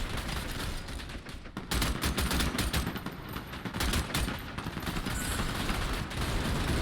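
Rapid bursts of gunfire from the vampire battle royale video game Bloodhunt, loud and close, with dense automatic volleys and overlapping shots sustained throughout.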